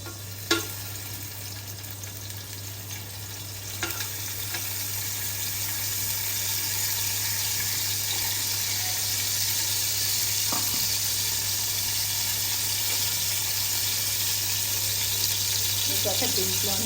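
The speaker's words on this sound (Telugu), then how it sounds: "ఈ నూనె నెయ్యి వేగాక ఇప్పుడు కొంచెం ఈ నానబెట్టిన మసాలా దినుసులన్నీ కొంచెం వేస్తానండి." Whole spices that were soaked in water hit hot oil and ghee for a mutton dum biryani and fry with a broad, steady sizzle under a low mains hum, with a few faint clinks.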